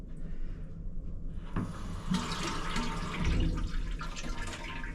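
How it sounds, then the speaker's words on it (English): A toilet flushes in a stateroom aboard the Queen Mary, opening with a sudden rushing gush of water that settles into steady swirling and refilling, heard close up without speech. "That's the flush to the toilet."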